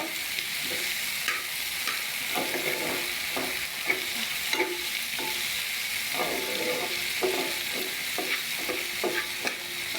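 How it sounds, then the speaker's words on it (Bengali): Tomato slices sizzle in a pan with garlic while a spatula stirs them, producing a continuous close frying hiss punctuated by frequent scraping knocks and clicks, with no one talking. "টমেটো স্লাইস দিয়ে এটাকে আবারও নেড়ে নিব"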